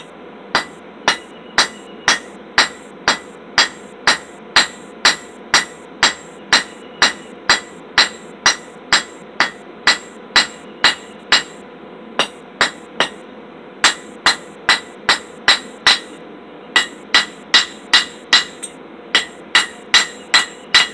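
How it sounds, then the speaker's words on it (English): Sharp metallic ball peen hammer blows on hot metal ring out in a steady, rapid rhythm at a forge, dozens of strikes with brief pauses, close and loud, with no talking. "I swapped over to my ball peen hammer. I'm going to use it to spread out the end of my metal"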